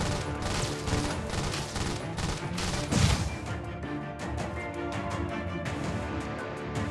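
Soldiers fire guns nonstop in the strategy video game Iron Marines, a loud, dense fusillade of overlapping rapid shots and bursts that runs steadily throughout, with a heavier impact near the middle.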